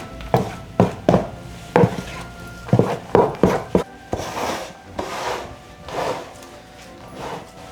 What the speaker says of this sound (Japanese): 混ざったので寄せて山を作っていきます。